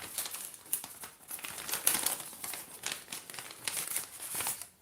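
Fan mail packaging is torn open and handled, close crinkling and crumpling of paper or plastic in irregular bursts, fairly quiet with no voice over it.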